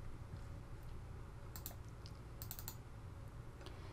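Quick, light keystrokes clicking on a computer keyboard, a few short bursts of typing over a soft steady room hum, near and fairly quiet.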